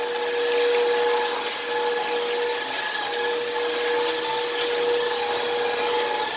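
A Hoover React cordless vacuum cleaner runs steadily on a floor, a loud continuous whine with a constant tonal hum and only slight changes in level as it moves.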